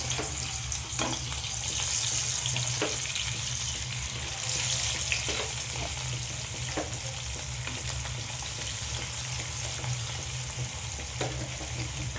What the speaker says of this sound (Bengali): এবার আমি মাছগুলো সব একে একে দিয়ে দিলাম, ভেজে নেব।